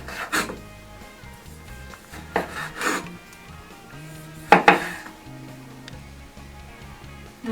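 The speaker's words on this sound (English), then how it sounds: "I'm going to go ahead and cut my tomatoes" A knife slicing tomatoes thick on a cutting board for Mexican tortas, a handful of separate rasping cuts and knocks on the board spaced a second or two apart, close and clear.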